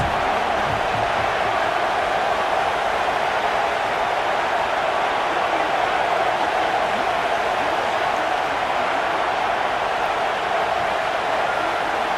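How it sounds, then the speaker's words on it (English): A football stadium crowd roars for the defense during a Hawaii versus Michigan game, a dense, loud, sustained wash of cheering noise that holds steady throughout. "this crowd is coming to help the defense"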